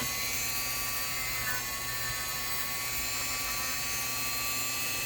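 A wire wheel spins steadily against model locomotive drive wheels from a Big Boy and Cab Forward, a continuous high-pitched whine with a constant hiss underneath, unbroken for the whole stretch.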